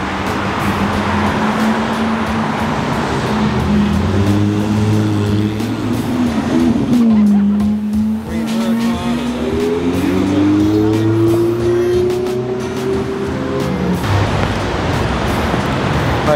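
Dodge Challenger cars roar past loudly, engines droning and rising in pitch as they approach and sweep by close at hand, with a continuous heavy rumble throughout and a faint tire squeal.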